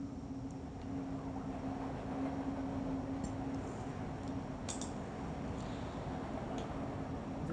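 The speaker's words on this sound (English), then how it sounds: "Come on, train." An underground train arrives in the point-and-click video game Broken Sword 2 with a steady low rumble and a faint hum. Occasional light clicks and rattles run through it for several seconds, with no speech.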